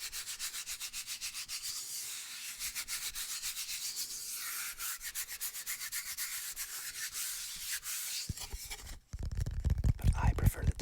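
Close, steady rubbing and scratching on the rough and smooth sides of a cedar wood ASMR object, repeated strokes throughout with brisker, louder scraping near the end and no talking.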